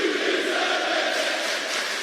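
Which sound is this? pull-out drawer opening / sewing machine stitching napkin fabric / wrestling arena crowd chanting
wrestling arena crowd chanting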